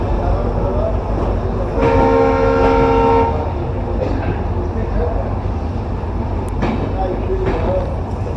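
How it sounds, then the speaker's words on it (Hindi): The 20501 Agartala–Anand Vihar Tejas Rajdhani Express pulls into a platform at an Indian station, its horn blowing a loud, sustained blast for over a second amid the heavy rumble of rolling coaches and platform bustle. "राजधानी प्लेटफॉर्म नंबर 2 पे अराइव हो रही है गाइस"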